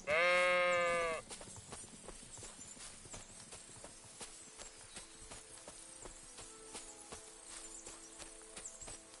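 A sheep bleats loudly in a quavering call for about a second in Kingdom Come: Deliverance II, then fades into a busy game soundscape of soft clip-clopping hooves and light clicks.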